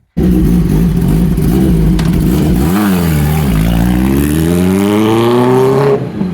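A Kawasaki ZX10R sport motorcycle's loud exhaust revs up and down in repeated surges, then climbs in a long rising pitch before cutting off, close by with no talking.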